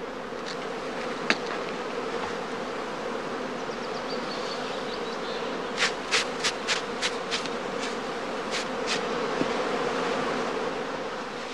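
Honey bees swarm around heather skeps in an apiary, a dense continuous buzzing hum at moderate distance, with a few sharper ticks and taps breaking through midway.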